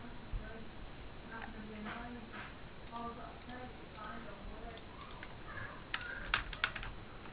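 Fingers tap on a computer keyboard in quick irregular bursts, soft individual key clicks with a few sharper strokes, under a quiet steady background hum, with no clear talking.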